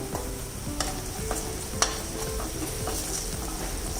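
Turmeric sautéed with softened onions in a pan for a prawn green curry, giving a steady low sizzle broken by occasional scrapes and clinks of a spoon against the pan, close and alone with no talking.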